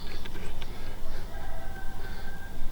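A rooster crowing amid a flock of geese and ducks, heard through a loud, dense background of constant outdoor noise, the calls faint and partly masked.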